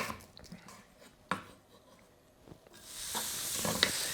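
A quarter onion hits a pan with a little sesame oil: a few light clinks of utensils, then a sudden rising hiss of frying that stays loud and steady to the end.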